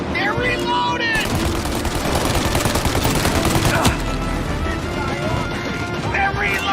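Continuous, heavy machine-gun fire rips through a Mafia: Definitive Edition shootout, with a sharp louder crack near the middle and yelling voices at the start and end.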